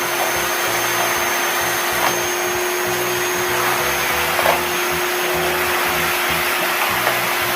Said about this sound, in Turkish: bu gerçek süpürge